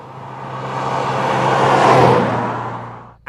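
A Mazda MX5 Mk3 BBR Super 200 engine revs up under load while driving, rising to a loud peak and then easing off, with a steady whirring drone and no talk.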